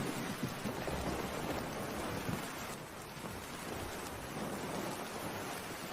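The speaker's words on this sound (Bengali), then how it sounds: "বৃষ্টির জল যেন বেড়েই চলেছে, চারদিকে জল চকচক করছে" Heavy rain pours down over a village in a cartoon, a dense, steady hiss of drops beating on surfaces. It stays loud and constant, with no voices.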